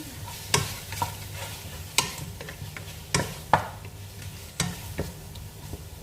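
A whole head of crushed garlic fries in a pan with a steady low sizzle, broken by sharp scrapes and clicks of a utensil stirring against the metal at irregular intervals. Nobody speaks.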